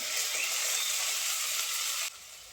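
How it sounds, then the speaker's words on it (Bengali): Onion frying in a pan, with ginger-garlic and onion paste going in, gives a loud, close, steady sizzle that drops noticeably quieter near the end. "নেড়ে চেড়ে পেঁয়াজটা আমি হালকা ভেজে নিয়েছি এখন দিয়ে দেবো পেঁয়াজ বাটা আর আদা রসুন বাটা"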